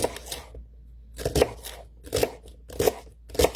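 A knife chops celery crisply against a cutting board in quick bursts of several strokes, separated by short pauses, close and clear.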